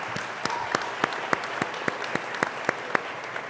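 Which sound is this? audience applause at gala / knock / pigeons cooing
audience applause at gala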